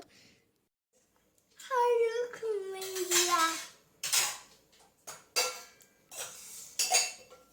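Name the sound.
kitchen vessels and dishes being stacked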